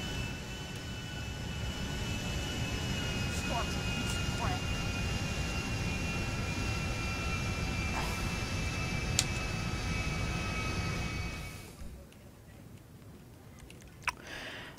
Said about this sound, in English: It was the plane,